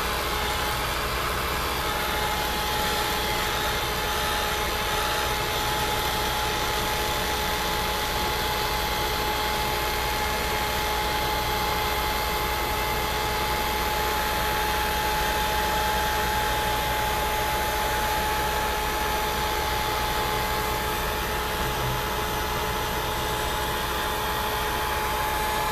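A hair dryer blows steadily on wet painted paper, a constant loud whirring hum with a faint tonal whine running unbroken throughout, with no voices.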